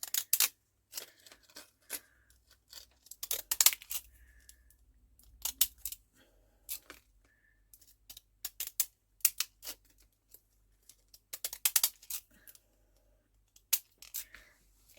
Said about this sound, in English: I'm just going to trim around this with my decal edge scissors.